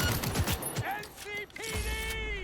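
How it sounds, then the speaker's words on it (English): Gunfire in the video game Cyberpunk 2077, a flurry of rapid shots and mechanical clatter in the first second, followed by in-game voices shouting over tonal effects. "Opening fire!"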